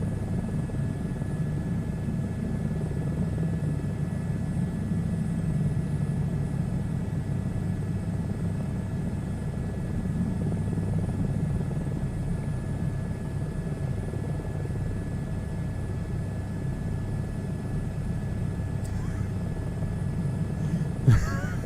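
A helicopter in a VR flight simulator game drones steadily with a low rotor-and-engine rumble, even in level and unbroken for over twenty seconds, with a faint click near the end.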